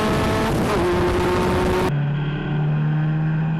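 Lotus Challenge race cars at Kyalami circuit drop into third gear for a tight uphill left-hander. A loud, steady engine drone holds its pitch, then shifts abruptly to a lower, rougher note partway through.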